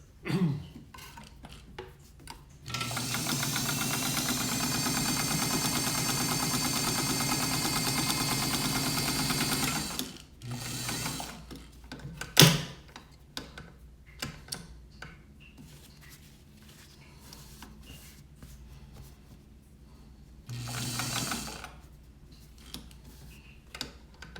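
A restored Necchi BCJ sewing machine stitches fabric in a steady, close mechanical whir for several seconds, followed by scattered taps and clicks, a brief sharp knock and a second short burst of running.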